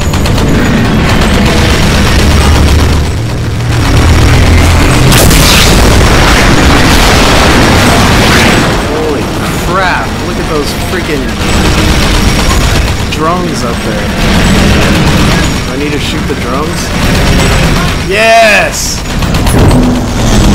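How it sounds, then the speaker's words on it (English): A .50 caliber turret gun fires in the video game Battle: Los Angeles, with loud repeated bursts and booming explosions throughout, and a player talks over the gunfire. "Freaking 50 cal, that would tear them to shreds, dude."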